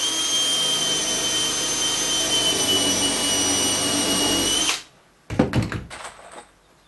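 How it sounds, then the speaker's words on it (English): A power drill whines steadily for several seconds while pre-drilling a hole in wood before screwing, then stops abruptly, followed by a couple of short clunks and scrapes. "pre-drill a hole before screwing through it so you don't split the wood"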